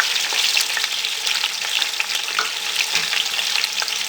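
Chicken fries in a pot for Qabli pulao, a dense, steady close sizzle with stirring scrapes running through it and no voices.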